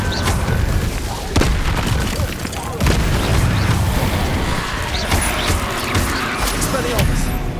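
Fire spell effects blast repeatedly in the Hogwarts Legacy video game, loud booming bursts and crackling whooshes over a dense, continuous game soundscape of combat noise.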